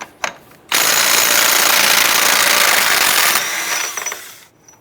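An impact wrench with a 36mm socket hammering off the front axle nut on a 2002-2007 Jeep Liberty, one loud sustained rattling burst of about three seconds after a short blip, then winding down.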